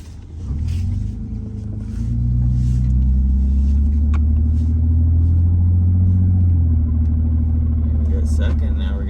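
A Dodge Charger or Magnum with a NAG1 five-speed automatic transmission on a test drive, its engine rumbling low and steady and rising as it accelerates, heard from inside the car.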